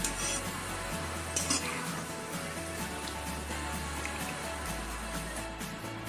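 Browned fried onions being lifted out of a kadhai of hot oil for chicken dum biryani, with a steady soft sizzle, light scraping and stirring of a utensil close by, and no talk.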